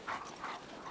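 A pack of sturdy Greenland sled dogs gives three quick yipping, barking bursts in about a second, moderately faint and with no voices.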